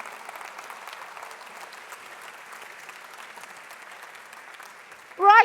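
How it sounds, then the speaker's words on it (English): Applause from a conference audience at a Vilamoura conference opening, a steady wash of many hands clapping at moderate distance, ending as a voice starts speaking. "So please, a round of applause for our absolutely fantastic AV crew, Michael and Missing Link."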